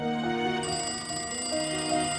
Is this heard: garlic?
no